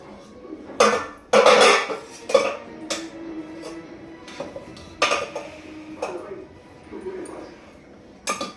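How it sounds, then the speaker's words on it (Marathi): Cooked rice is served onto a plate with a spoon, bringing sharp clinks and scrapes of utensils against dishes in irregular bursts, with someone talking quietly between them. "आता मी भात वाढते"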